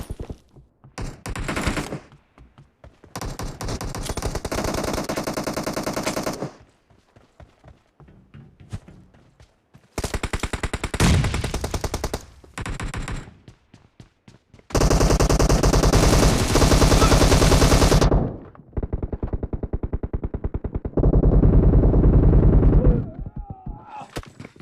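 Assault rifle fire in a team deathmatch of the mobile game PUBG Mobile, heard as long loud automatic bursts separated by short gaps and scattered single shots, with sharp clicks between volleys.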